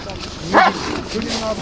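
A dog gives a single sharp bark in a garden during a confrontation with an intruding dog, close and loud, with people talking excitedly around it.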